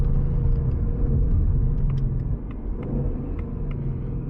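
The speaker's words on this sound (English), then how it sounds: "Sounds all right for a stock car." A stock car's engine rumbles heavily as it pulls through the gears, with the tone shifting partway through as it eases off and drops a gear, heard from inside the cabin.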